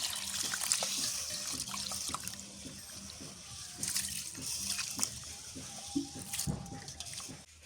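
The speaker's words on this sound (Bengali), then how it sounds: "আতপ চালগুলো ধুয়ে নেই" Uncooked atop rice being washed in a bowl of water, with soft sloshing, swirling and light splashes continuing steadily and close by, alone without talk.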